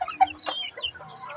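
A mother hen with her chicks clucks softly nearby, a few short low clucks mixed with faint high peeps over about a second.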